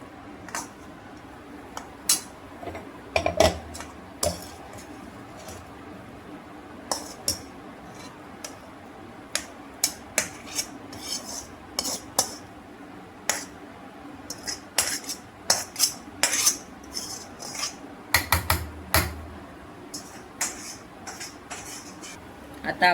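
A metal spoon scrapes and taps inside a mixer jar, scooping out freshly ground masala for paneer masala, giving irregular sharp clinks and knocks of varying loudness over a quiet kitchen background, with no speech.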